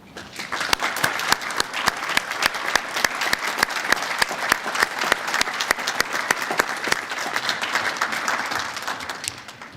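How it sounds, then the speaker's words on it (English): A commencement audience applauds steadily, dense clapping sustained for about ten seconds across a large hall with no voices on top. "join me in applauding her accomplishments"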